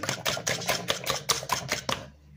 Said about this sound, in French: Vous battez bien les œufs.